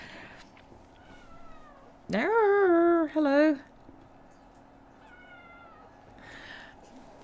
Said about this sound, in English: One of the cats has come back from wherever.